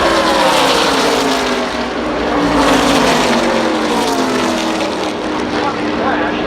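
NASCAR trucks race at Talladega, a dense pack roaring past with a loud, steady engine drone that swells and fades slightly. A voice talks underneath.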